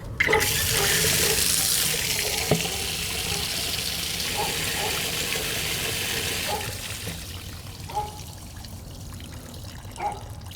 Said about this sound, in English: just to show you the flow, we're gonna run the spigot here.